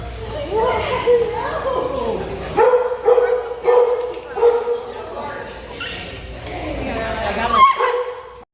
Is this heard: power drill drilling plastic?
no